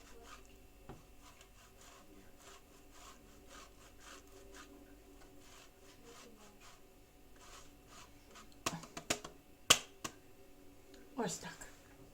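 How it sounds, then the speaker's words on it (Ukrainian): A homemade egg is rubbed against a grater for a salad, a faint rhythmic scraping in repeated strokes, with louder clattering knocks near the end and quiet speech. "подивимося, чи то ще одно потрем яйце"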